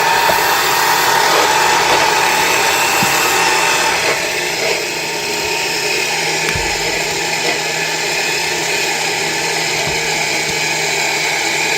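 X-Bull XPV 10k winch motor running during a Jeep recovery, a loud, continuous rough electric whine and grind close by, with slight shifts in pitch partway through and no talk.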